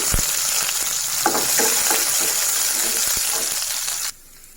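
Thinly sliced ginger and chopped garlic frying in a pan of hot spices for an aloo capsicum masala gravy, a loud steady sizzle with scattered metallic clinks and stirring scrapes, cutting off abruptly near the end.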